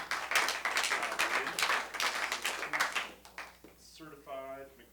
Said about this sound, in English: Did you guys give him a round of applause yet?